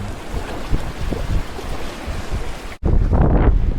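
Strong wind of almost 20 knots roars against the microphone while sailing, water rushing alongside the boat, a cut midway and then louder gusting buffeting.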